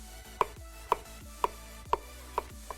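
A knife chops through food in a fine dice, making six crisp, evenly spaced taps about half a second apart on a cutting board, close and clear with no talking.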